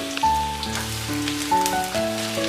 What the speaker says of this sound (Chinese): 热锅放油，油温七成热，将蒜末爆香